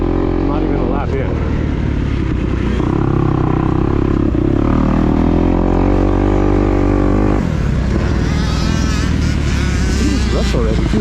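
A motocross dirt bike engine howls loud and close while being ridden, revving continuously with rising and falling pitch as the throttle works, then dipping briefly near the end before pulling hard again.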